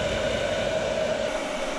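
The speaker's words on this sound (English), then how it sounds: "The hairdryer is not strong enough." A hair dryer runs continuously at close range while heating a bilge pump hose on a boat, a steady whirring blow with no pauses and no voices.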